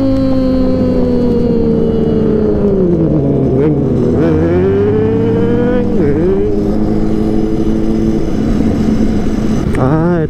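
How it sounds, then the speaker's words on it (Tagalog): A Yamaha Sniper 155R motorcycle engine revs loudly and steadily alongside other bikes on a road ride, with its pitch rising and dipping through throttle changes and a sharp burst near the end. "Tayo din, may boses din yung motor natin,"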